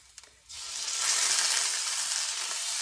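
A pork loin roast sears in a hot pan of olive oil: a short pause, then a loud, continuous sizzle that jumps in and holds steady to the end.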